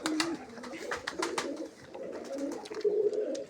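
Pure Rajan pigeons offered for sale coo in low, rolling bursts close by, several birds calling over one another in a steady murmur.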